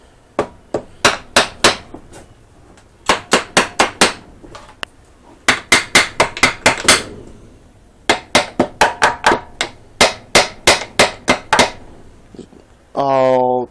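Hammer strikes on a Huskee mudding lawn mower's metal bottom sump cover, delivered in quick bursts of five to eight sharp, ringing metallic blows with short pauses between, ending in a brief tonal scrape as the cover comes loose.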